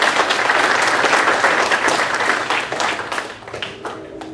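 A crowd at a state representative candidates' forum applauds the candidates, a dense, loud burst of clapping that holds steady and then thins out toward the end.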